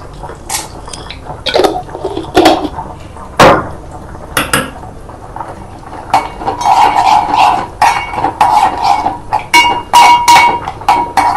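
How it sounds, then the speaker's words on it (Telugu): Cashews and raisins drop into a pan for a Diwali sweet with a run of clinks, taps and rattles. Metal utensils scrape and knock irregularly, and faint sizzling frying rises toward the end. "కొన్ని కాషులు వేసుకుంటాను, కొన్ని కిస్మిస్లు"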